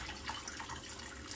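Water runs steadily from a tap into a sink while dishes are washed, a faint, even splashing hiss with no pauses.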